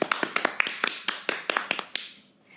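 Round of applause marking a 50th podcast episode: a quick, even run of about a dozen crisp claps from what sounds like one or a few pairs of hands, close and clear, fading out at the end.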